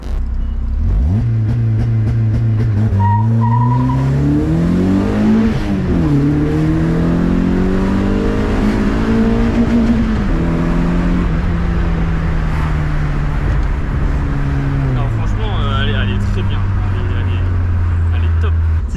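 Peugeot 106 fitted with a Peugeot 206 1.6 16v engine revs up toward 6500 rpm, a loud close engine note climbing, holding and easing back down, with people talking over it.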